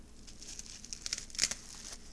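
Bubble wrap packaging crinkled during an unboxing of NASCAR die-cast models: soft, close crackling and rustling with a few sharper crinkles near the middle, no talk.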